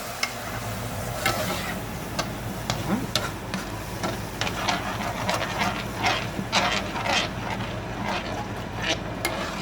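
Bacon gravy with milk just poured in, cooking in a pan over lowered heat: a steady close sizzle runs throughout, broken by scattered scrapes and taps of a utensil stirring against the pan, with no talking.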